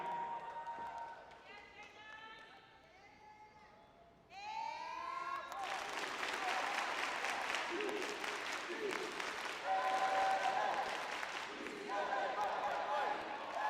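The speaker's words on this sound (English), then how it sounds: "So let's hit that A-clap." Graduation crowd at a UCLA student-athlete ceremony bursting into loud, sustained clapping and cheering, preceded by a speaker's amplified voice echoing through the hall.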